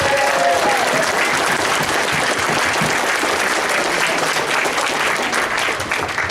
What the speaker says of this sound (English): So, round of applause for security.